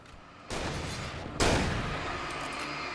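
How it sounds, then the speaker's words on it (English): Two loud broadband blasts from a shotgun firing in the video game Alan Wake, the first at about half a second and a sharper, stronger one a second later, each trailing off into a sustained noisy wash with no talking. "Carl, I'm switching to the shotgun now."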